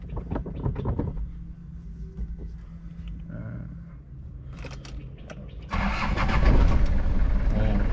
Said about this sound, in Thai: เดี๋ยวสตาร์ทให้ดูนะครับ